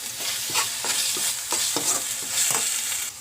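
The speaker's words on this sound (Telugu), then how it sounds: "బాగా ఫ్రై చేసుకోవాలి." Coconut and spices for chicken curry sizzle steadily in a hot pan. A spoon scrapes and stirs in repeated strokes about every half second, close and clear with no voices.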